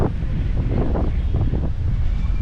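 Strong wind outdoors in Port Louis after a rainstorm, buffeting the microphone with loud, continuous low rumbling gusts throughout, no voices.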